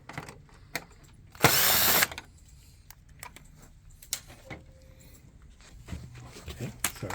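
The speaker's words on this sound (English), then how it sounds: "Remove that screw." A power screwdriver buzzes once for about half a second while backing a screw out of a Kyocera TASKalfa copier cover. Soft clicks and handling taps from the machine surround it.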